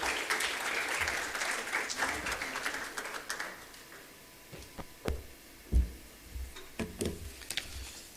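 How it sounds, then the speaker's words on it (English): Audience applause at an Actuaries Day 2023 celebration welcoming a discussion moderator, a broad wash of clapping for about four seconds that thins into a few scattered claps and knocks near the end. "With a huge round of applause, please welcome our moderator for this discussion, Kulin Patel."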